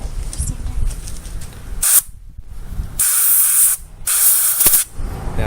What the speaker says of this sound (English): Why don't you use the air compressor and blow a little bit out?